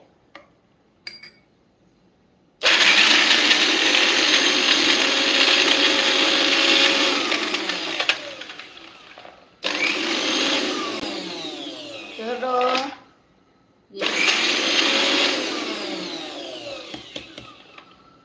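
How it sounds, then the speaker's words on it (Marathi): A kitchen mixer grinder whirs loudly while grinding a fasting-style chutney, running in three separate bursts of several seconds each with short pauses between them and faint clinks around the runs. "मी परत एकदा मिक्सरला फिरवून घेते"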